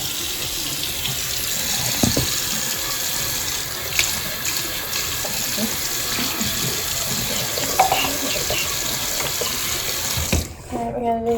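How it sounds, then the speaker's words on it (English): A tap gushes water at full force in a steady, loud broadband rush that continues throughout, with a brief clatter near the end. "let me get the water on, so. Kind of have to put it on full blast"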